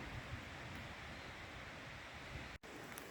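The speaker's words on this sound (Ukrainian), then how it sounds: "На сьогодні вітряно і дуже шумно в лісі" Steady wind roars through trees, a broad continuous rushing with a brief dropout near the end.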